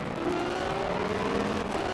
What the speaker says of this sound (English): Dude, it's got a scary exhaust note.